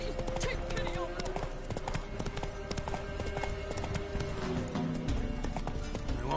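Roach the horse from The Witcher 3 gallops in steady, close clip-clop hoofbeats over game music and ambience, with a brief whinny and a voice speaking over the run.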